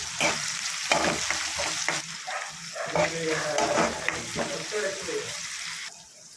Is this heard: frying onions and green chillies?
yes